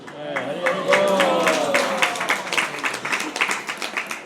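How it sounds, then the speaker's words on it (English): Audience clapping in uneven bursts at a devotional gathering during Nabadwip Mandala Parikrama, with a voice calling out over it at first; the claps grow sharper and more rhythmic toward the end. "clapping is also wonderful"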